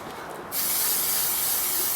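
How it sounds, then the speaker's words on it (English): A steady, close hiss of an aerosol contact spray glue can, used on a campervan headlining, starts abruptly and continues evenly without pause. "Get my spray glue"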